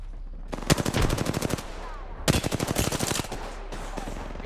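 Two rapid bursts of automatic gunfire in Apex Legends, likely the R-301 rifle, each about a second long with evenly spaced sharp shots, loud and close, separated by a short pause.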